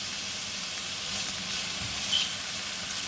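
Peppers sizzle steadily in a hot pan for an omelette over a slightly lowered flame, giving a continuous close hiss with faint stirring clicks and no talk.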